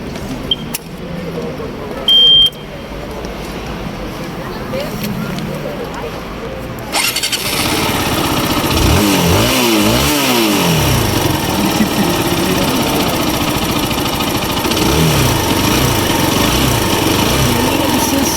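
ZT200-C motorcycle engine on a street starts abruptly after quiet background, then runs loud and steady with rising and falling revs, close by, with people talking over it.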